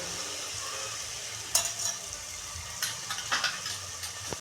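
Mixed Bhogi vegetables being sautéed in a pan make a steady, close sizzle and hiss, broken by a few scraping stirs.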